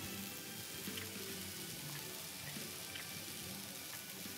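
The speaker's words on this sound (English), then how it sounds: "Listen to that sizzle." Food sizzles steadily in the video game I Am Bread, a continuous hissing fry, fairly faint and even, with no talking.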